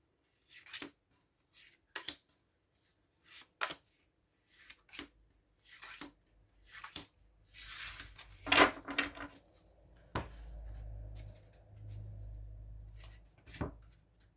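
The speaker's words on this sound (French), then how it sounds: "on va prendre 6 cartes de celui-là et puis 6 cartes de l'autre" Tarot cards being handled and drawn during a reading, with a string of soft, brief papery flicks and taps, then a louder riffle and a low rustling smear near the end, close by and with no talking.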